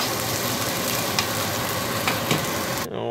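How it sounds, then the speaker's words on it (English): Rice and onions frying in leftover steak juices and butter, a steady close sizzle with a few brief stir clicks, cutting off abruptly near the end. "we have some rice and onions cooking up in the juices and a little bit of butter that was left over from the steak"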